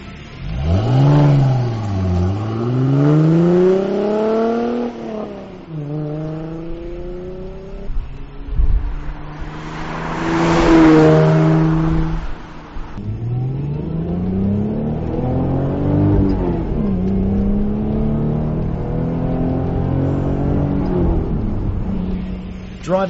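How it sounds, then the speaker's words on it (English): S197 Ford Mustang V6 with a take-off dual exhaust revs hard several times, each loud, close throttle blip sweeping up and falling back, with a hissy burst midway. "Under full throttle, the V6 roars louder than stock and keeps a nice tone throughout the entire power band."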